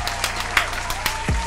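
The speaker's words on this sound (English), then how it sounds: "everybody clap it up for God Triller" An audience claps and applauds at a gaming show, brief scattered applause over a low steady hum.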